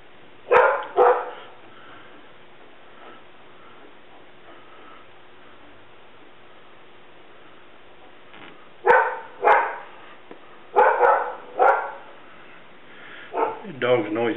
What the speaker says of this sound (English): Your dog's noisy.